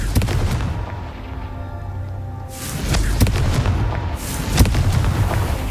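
Confringo fire spells explode in the video game Hogwarts Legacy, with booming blasts over a rumbling game soundscape and a sharper burst partway through.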